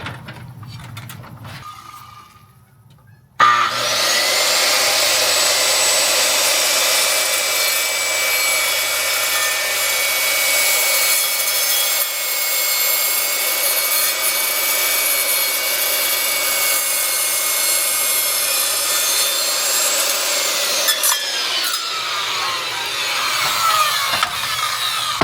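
A saw cuts steadily through wooden floor boards in a garage, a loud continuous grinding and rasping that starts abruptly after a few quiet seconds and runs unbroken for about twenty seconds.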